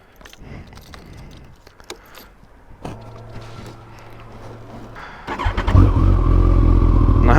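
Kawasaki ZZR1400 sport motorcycle, with keys jangling and handling noises before the engine catches and settles into a loud, close, steady rumble that builds as the ride begins.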